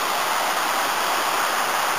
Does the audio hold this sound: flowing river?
yes